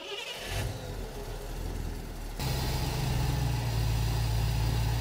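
A car engine fitted with Holley Sniper EFI and a dual sync distributor cranks briefly and then catches, settling into a loud, steady idle rumble close by without any talk.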